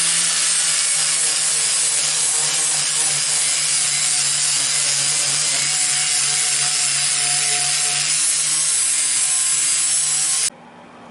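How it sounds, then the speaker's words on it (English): A flap disc grinder cleans thin sheet metal before welding, giving a loud, continuous abrasive whir for about ten seconds before it cuts off abruptly. "I'm going to use a flapper disc and clean this up instead of a grinding wheel because it's not that thick."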